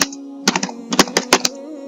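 A computer keyboard clatters with a quick burst of about eight sharp, close keystrokes in an uneven rhythm as a keyword is typed, with a faint steady hum underneath.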